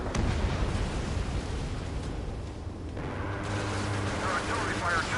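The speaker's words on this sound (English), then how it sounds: "Their artillery fire just missed us off our starboard side." Artillery fire in a flight combat game, a rolling barrage of deep booms and gunfire rumbling continuously under engine roar, with radio chatter over it.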